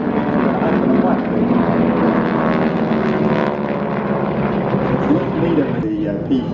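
Display aircraft, including a P-40, flying a barrel roll in trail at an air show, a loud continuous propeller engine drone with an announcer talking over it.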